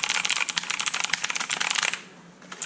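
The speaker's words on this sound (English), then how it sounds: "It uses MX Blue replica switches, or at least an off-brand of MX Blue, and they are very loud." Mechanical keyboard with loud MX Blue replica switches being typed on, a dense run of sharp, clicky keystrokes close to the microphone that thins out after about two seconds to a few scattered presses.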